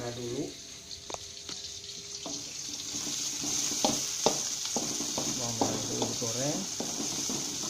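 Shallots fry in a pan for fried pork, a steady broadband sizzle running throughout with clinks of stirring and a few water-like splashes, under intermittent voiced sounds.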